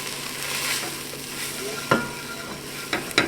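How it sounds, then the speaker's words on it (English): Keto taco soup with chili powder just added, a soft simmering sizzle in the pot with a few scraping knocks of a spoon while it is stirred. "Let's just give that a good stir"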